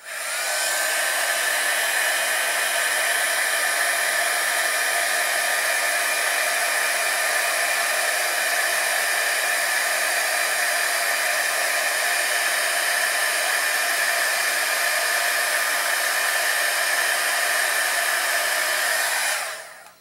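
Heat tool blowing steadily near the microphone while melting gold embossing powder directly on a card base, a continuous loud whirring roar that runs unbroken from start to finish with no voices.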